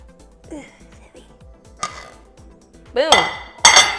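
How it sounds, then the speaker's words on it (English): Plates clink and clatter as one is set down and a Jamaican black cake is flipped onto it, with scattered light knocks first, then two louder ceramic clanks near the end; a voice murmurs faintly underneath. "I'm gonna get another plate and flip it."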